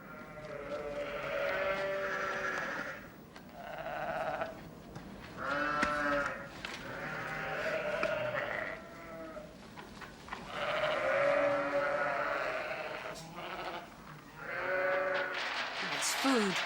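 Sheep and lambs bleat repeatedly in a cold, windy farm setting, calls coming in bursts close by with short pauses between, some overlapping.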